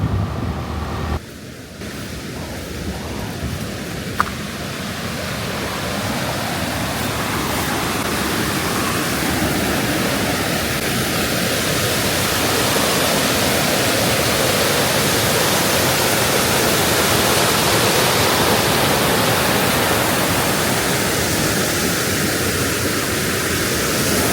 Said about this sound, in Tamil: இந்த அருவியெல்லாம் பார்த்தீங்கன்னா ரோட்டுக்கு பக்கத்தில் தான் இருக்கும்.